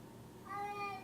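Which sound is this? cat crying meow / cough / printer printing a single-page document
cat crying meow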